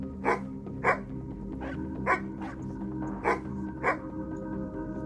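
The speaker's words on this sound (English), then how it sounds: "rear up against the fence and bark in your direction" A dog barks over a steady low hum, the sharp woofs coming roughly once a second at moderate distance, six in a row with short gaps between them.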